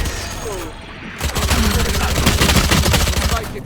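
Gunfire in the Valorant video game, a dense burst of rapid shots running for about two seconds after a brief pause, loud and close, with a voice speaking at the start.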